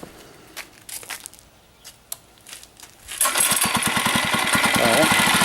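A 2018 Monster Moto B80 mini bike engine is started after a few rustles and clicks, then runs with a loud, fast, rhythmic chugging idle close by.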